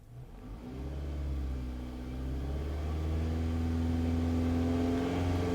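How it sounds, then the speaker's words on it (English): A Toyota Camry engine with a suspected vacuum leak and codes P0171 and P0101 revs up from idle and holds a steady, rising drone near 3,000 RPM, close and continuous with no talking. "So now I'm gonna increase the engine RPMs."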